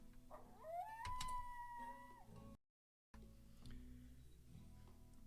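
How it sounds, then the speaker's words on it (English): A dog in a colony-sim game lets out a rising, drawn-out howl, loud and close, followed by a brief cut to silence and then quieter ambient game sounds. "no clue what Mather was barking about"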